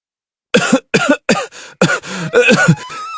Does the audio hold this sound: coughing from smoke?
yes